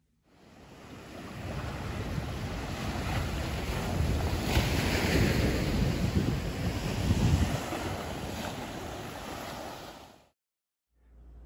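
A homemade ocean drum made from a cardboard pizza box gives a steady rolling hiss of shifting beads, swelling and fading like surf over about ten seconds, close and alone before cutting off.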